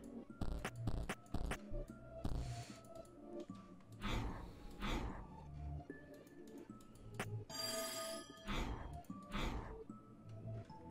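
An old telephone ringing in the video game There Is No Game: Wrong Dimension, with bursts of bright electronic ringing that come and go among clicks and other game sounds, fairly loud and with no talk.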